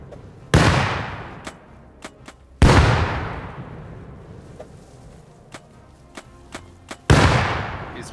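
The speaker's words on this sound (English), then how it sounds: "Oh, I threw a grenade." Grenade blasts in the survival game Rust at a trap base, three loud booming bursts with long decaying tails spread across the stretch, separated by a few faint distant pops and clicks.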